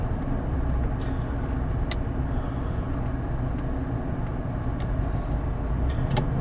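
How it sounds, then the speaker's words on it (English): A 2001 Cadillac DeVille driving on a test drive, turning and climbing hills, with a steady low engine and road rumble heard from inside the cabin and a few faint clicks, with no talking. "We'll go ahead and make a right-hand turn over here, and we'll see how the vehicle does going up and down some hills."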